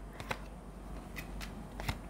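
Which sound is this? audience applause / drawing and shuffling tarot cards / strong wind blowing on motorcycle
drawing and shuffling tarot cards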